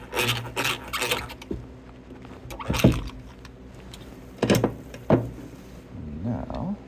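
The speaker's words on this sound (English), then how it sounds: "Pre-drill the hole." An antique hand drill bores a pilot hole in wood for a tree swallow nest box. It gives a few short rasping, grinding bursts with pauses between them, close to the mic, with some faint handling noise.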